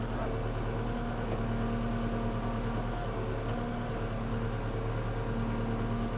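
A Limbinator limb saw, run off a tractor and revved up, cutting through a branch, giving a steady loud mechanical drone with tonal hum throughout.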